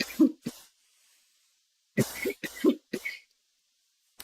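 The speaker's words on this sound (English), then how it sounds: "Coughing through it at the moment." Several bursts of harsh coughing during a smoking session, one short cough, a pause, then a cluster of four or five close, loud coughs with no talk.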